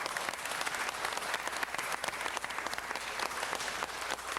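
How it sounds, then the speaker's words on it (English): A council-meeting audience claps steadily for a local high school, a dense wash of many hands that holds at an even level throughout without pause. "Give them a round of applause."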